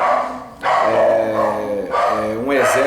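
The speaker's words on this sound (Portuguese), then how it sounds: "Os meus cachorros aqui estão em polvorosa." Several agitated dogs bark and growl loudly in quick bursts, sounding close and overlapping with a voice talking.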